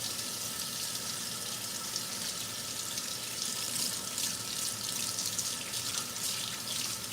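A piece of meat is rinsed under a running kitchen tap, giving a steady hissing splash of water that continues evenly and fairly softly throughout.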